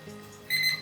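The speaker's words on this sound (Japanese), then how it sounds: "ピピピピッとなりました。" A kitchen timer beeps in a short rapid burst, signalling five minutes of cooking paprika chicken breast in a frying pan on a portable gas stove, clear and close with no talk.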